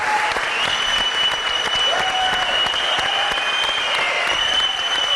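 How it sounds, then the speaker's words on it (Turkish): Studio audience applause on a Turkish television programme, a dense, steady wash of many hands clapping at close range for the whole stretch, loud and continuous with faint tonal sounds running beneath. "Ama tabii ki en büyük alkış Alex'e."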